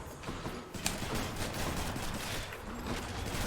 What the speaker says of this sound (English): those homing shots really home, don't they?